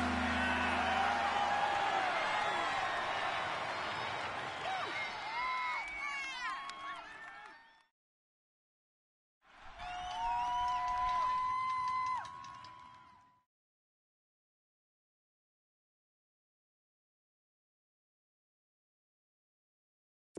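A stadium crowd roars in a PS4 American football game ahead of a big third down, with a broad swelling cheer that cuts out abruptly, then returns briefly under commentary-like voices before falling silent.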